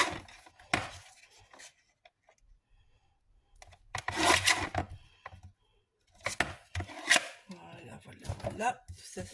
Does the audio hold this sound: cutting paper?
yes